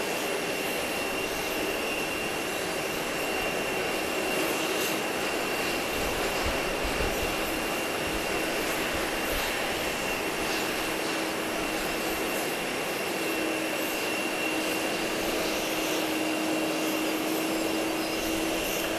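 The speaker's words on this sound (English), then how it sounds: "It's going to be another twin otter." A Cayman Airways Express Twin Otter arrives from Little Cayman at Grand Cayman airport, its twin turboprop engines droning steadily at a moderate distance for the whole stretch, with no talk over it.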